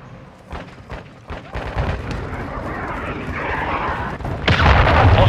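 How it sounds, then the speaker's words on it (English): A cruise missile strike in Call of Duty: Modern Warfare II, with scattered booms building into a heavy roaring blast and rumbling explosions at the end, loud and dense over distant battle noise. "Friendly cruise missile inbound."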